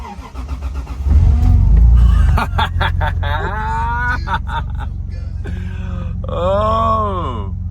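An abandoned Toyota Supra Turbo that had been failing to start cranks with a rapid rhythmic starter whir, then catches and settles into a loud, close idle, with voices talking over it afterward.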